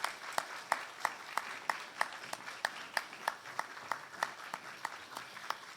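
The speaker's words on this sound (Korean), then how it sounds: "우리 퇴장하시는 그때까지 우리 박수해 주시길 바랍니다" A church congregation at a Sunday worship service claps for a departing vocal ensemble, a steady rhythmic beat of distinct hand claps keeping time, soft and somewhat distant, with no talking.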